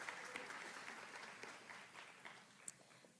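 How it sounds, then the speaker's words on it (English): An audience at a university School of Education pinning ceremony applauds the middle grades education majors, with soft, distant, sustained clapping and a few sharper individual claps standing out. "Please give a round of applause to our middle grades education majors."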